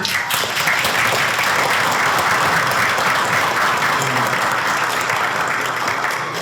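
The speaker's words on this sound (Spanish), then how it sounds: "Un aplauso." Sustained audience applause at a panel event on European deforestation regulation, dense and even clapping filling the whole stretch, loud and close, with no talking.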